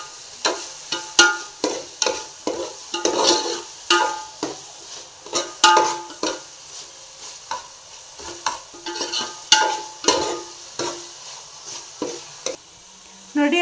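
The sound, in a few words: stirring and mixing food in a pan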